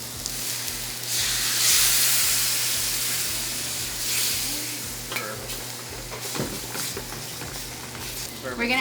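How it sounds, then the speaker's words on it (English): Sherry wine poured into a hot glazed pan while building a sauce base, a steady sizzling hiss with stirring, near and moderate, with a person talking over it. "I'm gonna add just a little bit to the glazed pan."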